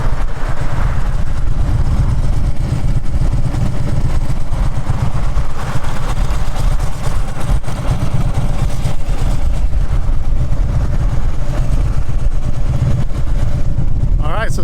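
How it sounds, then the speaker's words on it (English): A Harley-Davidson motorcycle idles steadily throughout, a deep, loping low rumble heard up close from the rider's position with faint road ambience around it. "You can see it is a Harley, and I am idling,"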